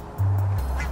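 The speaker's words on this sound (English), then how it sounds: "Ducks! No, geese. Geese ducks." Geese or ducks give a single low honking call nearby, a sustained nasal note lasting under half a second against outdoor background noise.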